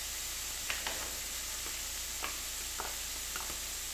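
Garlic filling sizzles steadily in a hot pan, with a continuous frying hiss and a few soft scraping stir strokes scattered throughout.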